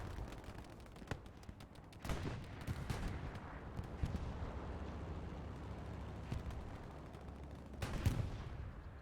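Distant artillery fire in a large-scale online war game battle over a contested position, with muffled booms and scattered gunshots rumbling through a steady low battlefield din.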